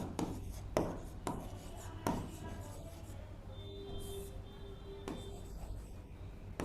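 A teacher writes on a board during a maths lesson, with sharp taps and scratchy strokes spaced through a steady low background hum and no voices.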